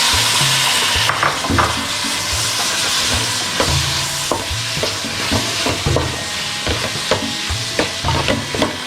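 Three chopped tomatoes hitting hot oil in a pan while cooking prawn kabsa rice, sizzling steadily with repeated scraping stirs of a spoon against the pan, close and fairly loud throughout.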